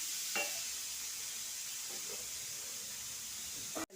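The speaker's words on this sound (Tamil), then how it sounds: "தாளிக்கிறோம்." Constant sizzling hiss of spices tempering in hot oil for a Sri Lankan beef curry, close up, with faint clinks of a utensil stirring now and then.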